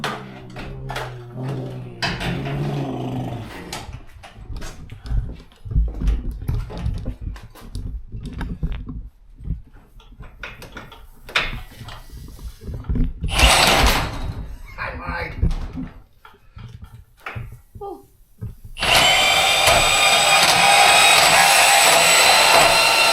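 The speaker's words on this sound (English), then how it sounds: "We got the big old bandsaw here." A large bandsaw cuts through a Menards EZ Set spring part, loud and steady in the last few seconds after scattered clanks, knocks and handling noises in a workshop.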